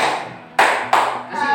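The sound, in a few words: group hand clapping in counted rhythm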